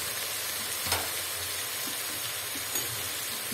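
Potato and cauliflower sautéing in a pan for vegetable pulao give a steady, close frying sizzle with a couple of soft stirring knocks, and no talking.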